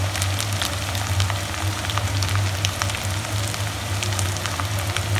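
Ginger garlic paste fries in a pan for an aloo gobi curry, giving a steady close sizzle with crackling pops over a low hum, no voices.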